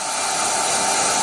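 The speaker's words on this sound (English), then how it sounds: "Get our heat gun." A heat gun blows hot air onto heat shrink tubing over a braided headphone cable, a steady loud close-up hiss that holds without pause and has no talk over it.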